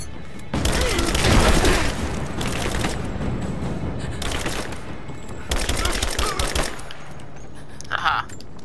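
Covering gunfire in the video game Rise of the Tomb Raider: loud, close automatic bursts in three long volleys with quieter gaps between them, and voices call out over the shooting.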